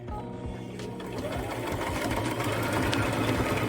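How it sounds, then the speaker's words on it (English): A sewing machine stitches down a seam on a flannel shirt, a steady close-up mechanical whir with a fast needle rhythm that runs without a break and grows slightly louder. "I'm just going to sew it down, and you guys are going to see what I'm talking about"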